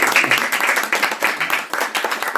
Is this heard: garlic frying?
no